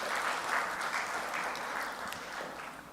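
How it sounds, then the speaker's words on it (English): A conference audience applauds at an Indonesia Financial Group international gathering, a quiet, steady wash of many hands clapping heard from a distance, even and unbroken for a few seconds. "So give big applause to IFG Progress."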